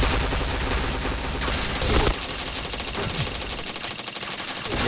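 Rapid automatic gunfire in a shooter video game, dense continuous bursts rattling for several seconds with a brief louder blast near the middle, loud and close, no talking.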